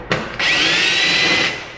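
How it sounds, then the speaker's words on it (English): A power drill re-drills holes in the front of a widebody fender on a 1990 NA Miata, a short whir spinning up, then a steady high whine for about a second before trailing off. "I gotta re-drill the two fronts now so that they're both even."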